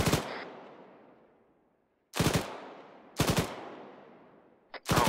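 Heavy vehicle cannon in the military game ArmA 3 fires several booming rounds, each a loud sharp blast with a long decaying rumble, spaced a second or two apart.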